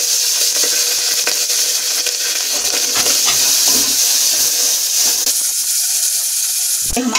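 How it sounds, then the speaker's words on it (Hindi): Onions hit a pan of hot oil holding garlic, cumin and asafoetida, setting off a loud, continuous hissing sizzle with scattered stirring scrapes and knocks throughout. "अब मैं ये प्याज डाल दूंगी।"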